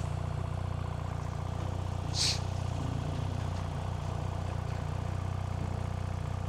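A car engine idles steadily on a street while warming up, a constant low rumble held throughout with no voices over it.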